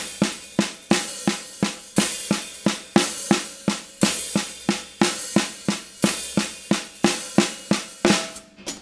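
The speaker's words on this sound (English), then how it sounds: "instead of doing flams on the snare, I'm hitting the hi-hat" Flam pattern played across two hi-hats in a technical death metal drum lesson: a fast, even stream of bright close cymbal hits in steady triplet groupings, each accent doubled, with no talking.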